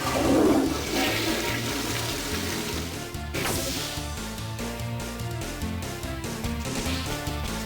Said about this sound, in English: Yeah, it's literally a toilet. It's the flush-o-matic.